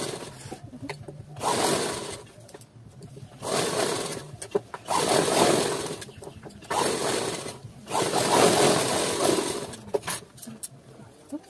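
A sewing machine stitching a bracket-style blouse, running in four or five whirring bursts of a couple of seconds each, separated by short pauses with light handling clicks.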